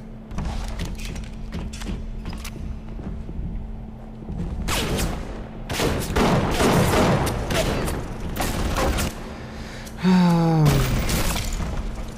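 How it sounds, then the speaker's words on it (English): Automated turret gunfire in BioShock rattles in dense bursts with heavy impacts and crashes over a busy game soundtrack, rising louder in the second half. "Is the turret even hurting it, I guess, is the question."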